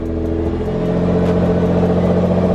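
A powerful Nissan GT-R R35 engine rumbles loudly and continuously, its tone shifting briefly near the start, with no voices.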